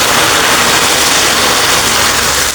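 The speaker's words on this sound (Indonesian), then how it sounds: "kita siap tuang air panas ya, air mendidih ya" Boiling water poured into hot cooked caramel for a stovetop caramel sponge cake, giving a loud, steady hissing rush that fills the whole moment without a break.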